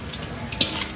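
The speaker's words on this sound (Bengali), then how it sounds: "এই যে পাঁপড় ভাজা হচ্ছে" Papad frying in oil in a busy hotel kitchen in Digha, a steady bubbling sizzle and hiss with a few sharper crackles and splashes near the end.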